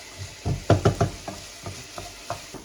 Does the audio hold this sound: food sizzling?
yes